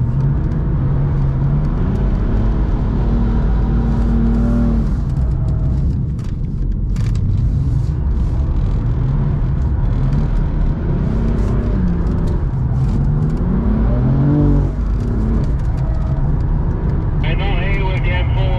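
A BMW M4 F82 drifting on the Circuit de Lohéac race track, its engine roaring loud and steady with pitch sweeps as revs rise and fall through gear changes, heard from inside the car beneath a driver talking.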